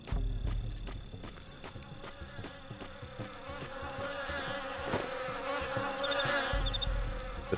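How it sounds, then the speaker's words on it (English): Insects buzz steadily in the Wii video game Man vs. Wild with Bear Grylls. The drone is dense and continuous over a background of clopping, stepping game sounds and never drops out. "The bees were protecting some pine needles"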